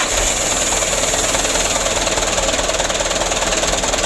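A Mitsubishi Canter 125 truck engine with a shaking, low-power fault and long cranking runs rough with a steady, close, rhythmic knocking pulse throughout.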